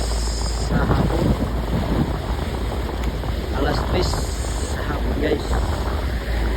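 Wind and waves during a storm at sea, a constant loud rush and rumble of gusts and churning water aboard a boat, with wind buffeting the microphone throughout.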